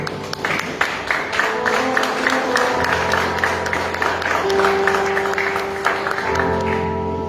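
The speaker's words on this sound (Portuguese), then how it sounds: "Dê uma linda salva de palmas ao Senhor." Loud, steady applause from a large church congregation, continuous clapping filling the room for several seconds with music sustaining underneath.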